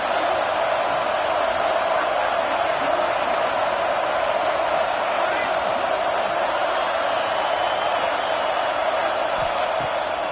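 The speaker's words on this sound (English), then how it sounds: "This crowd, full throat, splitting the eardrums and letting them know it's going to be a long day" A loud, steady stadium crowd roars throughout an NCAA football video game, a dense, continuous wall of noise with no break, likely with faint commentary mixed underneath.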